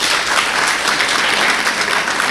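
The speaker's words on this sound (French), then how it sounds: "Donc il faut aussi applaudir vos profs et vos surveillants." An audience claps steadily for teachers and supervisors at a school event honouring student success, dense and continuous applause throughout.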